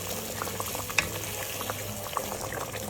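Fish curry with kesum leaves and tamarind simmering in a pot, a soft bubbling and low sizzle with occasional small clicks and splashes, close and quiet.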